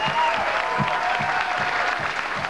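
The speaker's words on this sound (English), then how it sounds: "And a nice round of applause for Jason, who's bowled very well" Crowd at a 2003 PBA professional bowling event applauding a bowler, a steady, fairly loud wash of clapping throughout.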